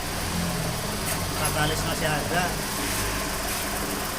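A Datsun Go idles with an aftermarket Suos exhaust fitted, giving a steady close rumble under someone speaking.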